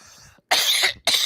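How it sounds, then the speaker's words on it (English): Two loud, close coughs in quick succession after a short muffled sound, with a brief gap between them. "coughing"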